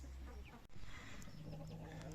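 Silver Wyandotte hens in their coop, about a dozen birds, giving soft scattered clucks and low murmurs near and far, with a sharp knock partway through.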